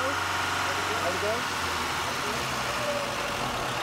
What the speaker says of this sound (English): We're going to do it again, revving the car.